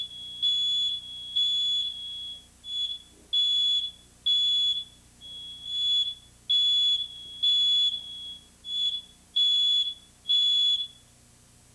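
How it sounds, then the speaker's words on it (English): A smoke alarm in a home bedroom sounds in a long run of about a dozen shrill, piercing beeps at an even pace, with no voices. "You know the smoke alarms are going off."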